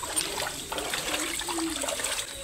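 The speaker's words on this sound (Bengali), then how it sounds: "এখান থেকে জল বেরিয়ে যাচ্ছে ওই পারে, মানে রাস্তা কেটে দিয়েছে বলে" Water running off a waterlogged road through a cut channel, a steady close trickle with a faint watery babble that carries on without a break.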